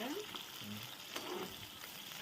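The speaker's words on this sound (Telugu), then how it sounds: "4 పచ్చిమిర్చి మొత్తం వేసి బాగా దొరగా వేయించుకోవాలి" Onions and green chillies fry steadily in a pan, a soft continuous sizzle with faint stirring scrapes running close by and no voices.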